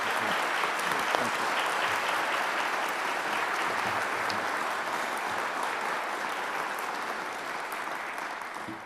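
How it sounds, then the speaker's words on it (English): Sustained, steady applause from an audience greeting the newly introduced police chief, Ernest Finley, in Montgomery, filling the room at even strength before easing slightly toward the end. "I really appreciate that applause and that introduction"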